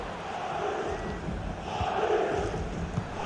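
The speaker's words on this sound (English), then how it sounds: "Well, just listen to the crowd." Stadium crowd noise from a FIFA 23 football match, a broad steady roar of many voices swelling slightly toward the middle, loud and continuous without distinct words.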